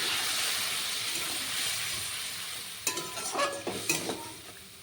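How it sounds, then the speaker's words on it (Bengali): Spice masala sautéing in a pan on a low flame with a cup of water added, a soft hissing simmer followed by a few close stirring scrapes near the end, no talk. "এখন আমি লো ফ্লেমে রেখে মশলাটা ভালো করে কষিয়ে নেব।"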